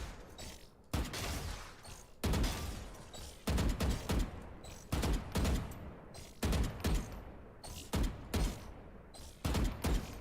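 Repeated loud gunshots in the tactical shooter Valorant, clustered bursts and single cracks spread irregularly across the stretch, close and punchy with brief quiet gaps between volleys.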